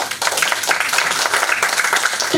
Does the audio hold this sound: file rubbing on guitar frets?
no